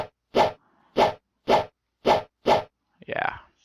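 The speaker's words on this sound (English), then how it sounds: "Oh, Roblox sounds." Roblox video game sound effects, five short evenly spaced pops about half a second apart, then a brief rising blip at the end, clear and alone over quiet background.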